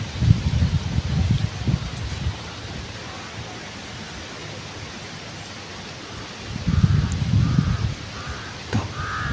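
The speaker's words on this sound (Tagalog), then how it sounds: "Ikot-ikot yung uwak." Crows caw outdoors after rain, their harsh calls repeating in a quick series, moderately distant, over a steady wash of wind and rustling leaves with bursts of low rumbling noise.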